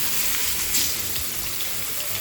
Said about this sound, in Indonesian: ratakan minyak pada permukaan wajan yang panas dan masukkan dagingnya